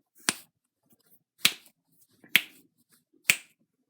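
Four sharp, close finger snaps, spaced roughly a second apart, fake the sound of knuckles cracking. Quiet gaps separate each crisp snap, with no talking.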